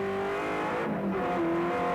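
1986 touring cars racing at Calder Park, a loud continuous engine drone with shifting pitch as cars brake and power through a turn, close and dense with no talking.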